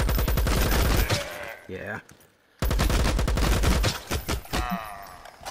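Rapid gunfire bursts in an online shooter video game, loud and repeated automatic fire with a short gap, while players talk over it.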